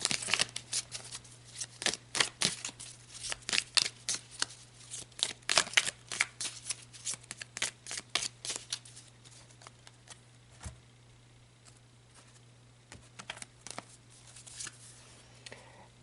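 Tarot cards are shuffled by hand in repeated quick riffling bursts, crisp and close, with a low steady hum beneath and the shuffling thinning out toward the end.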